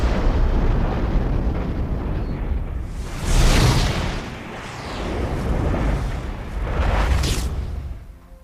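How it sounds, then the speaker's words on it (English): Nuclear explosion sound effect: a loud, deep rumbling roar that surges in repeated waves of blast and rolling thunder, heavy and sustained, with no voices. "A nuclear explosion."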